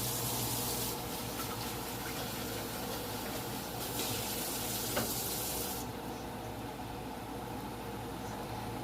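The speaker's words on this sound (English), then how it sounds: "Now I have to keep stirring that because I'm dealing with the flour and water." A flour-and-water sauce for pepper steak being stirred in a hot pan, a steady low sizzle and bubbling hiss with soft spoon scrapes, fairly quiet and with no one talking.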